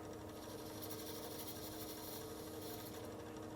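A cutting tool scrapes acrylic while threads are cut on a lathe at low speed, giving a steady, even rasping whir that holds at constant level throughout.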